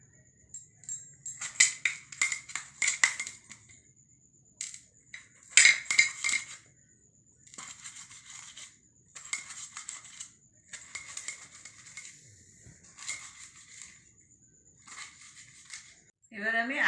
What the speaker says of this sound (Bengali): টমেটোটা কেটে নেব।